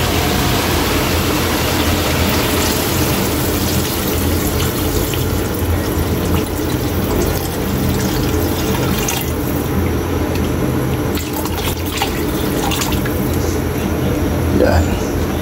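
Rice washing water pours into a pot of beef papaitan, a loud continuous watery rush and splash close by, with a low hum beneath and a voice speaking over it.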